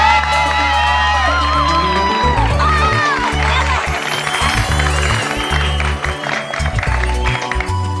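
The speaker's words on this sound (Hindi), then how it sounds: "परिवार के लिए जरा जोरदार तालियां हो जाए" A studio crowd at a celebration for the Bhide family bursts into loud applause and cheering, filling the space continuously over music.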